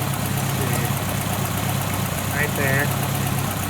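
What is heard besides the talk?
car engine idling during Holley 5200 carburetor tuning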